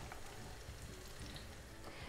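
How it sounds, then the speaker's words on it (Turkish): Steady, dense crackling sizzle of unleavened dough frying in hot oil in a pan, close and continuous with no talking. "anında kızartmaya başlıyorum"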